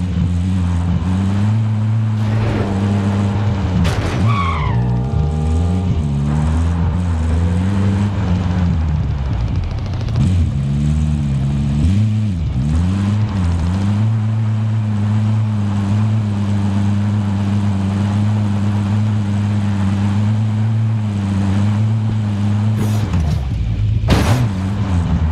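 An in-game vehicle drives in Call of Duty: Warzone, its engine droning loud and steady throughout with rising and falling pitch as it accelerates and shifts, plus occasional mechanical clunks.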